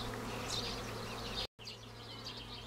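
Honeybees flying around a hive at an apiary in the morning, a steady close buzzing drone with individual bees passing by, briefly cut out for an instant midway.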